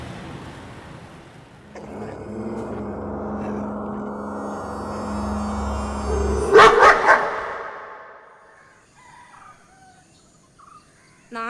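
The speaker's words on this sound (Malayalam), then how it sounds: "ഇതെല്ലാം പട്ടികളുടെ ബഹളമാണ്" Stray dogs raise a racket outdoors, with drawn-out howling tones building up and then a cluster of sharp barks before the noise fades to near quiet.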